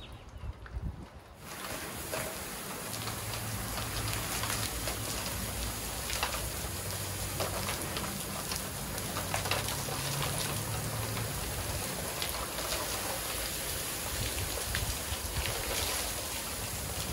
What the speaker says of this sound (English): then we'll just kind of go back through and do a real nice little rinse on it